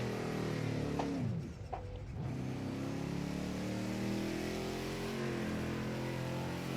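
A simulated racing car in Project Cars 2 brakes and downshifts into second with a heel-toe blip, its engine note dipping and swooping as revs rise and fall, then settling into a steady, loud drone.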